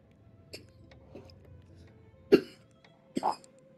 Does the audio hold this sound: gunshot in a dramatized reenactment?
no